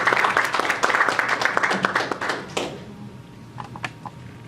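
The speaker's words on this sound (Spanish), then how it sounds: "Un aplauso para el doctor." An audience at a conference talk on sleep and stroke risk claps for a doctor taking the microphone, a few seconds of brisk applause that fades out into scattered claps.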